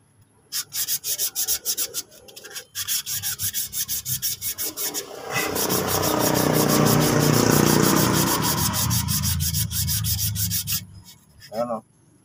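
Sandpaper rubbing rust off metal in steady back-and-forth strokes, close and loud, breaking into a longer continuous grinding scrape midway before the rhythmic strokes resume.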